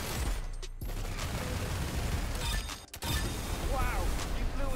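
Dense, continuous gunfire in the Roblox game Arsenal, loud rapid shots and crashes layered over one another, briefly dropping out before resuming, with voices talking over the action.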